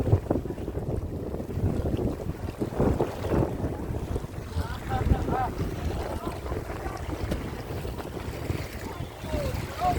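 A bangka, a small outrigger fishing boat, out at sea, with wind buffeting the microphone and water sloshing against the hull in a steady, rough wash, while voices talk faintly underneath.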